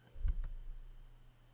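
Two quick, soft computer mouse clicks in close succession, faint and close, with no talk.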